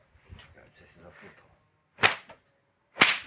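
A man cracks a long whip outdoors, two sharp, loud snaps about a second apart following some quiet murmuring voices.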